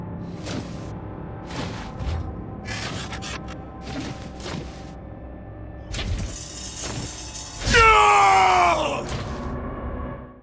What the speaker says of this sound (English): So Springtrap will run his hand along his knife before presumably cutting himself, hence the scream.